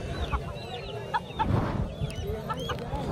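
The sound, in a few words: roosters at a livestock market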